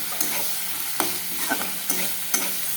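Spice paste fries in oil in a home kitchen pan, a continuous close sizzle punctuated by several short scraping stirs of a spoon against the pan.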